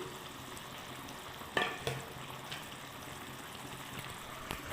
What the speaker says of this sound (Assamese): এয়া উতল আহিছে, উতল অহাত মই এতিয়া পনীৰখিনি দি ল'ম